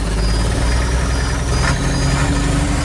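A project car engine idles roughly, a loud close low rumble with an uneven, lumpy pulse and no talk over it.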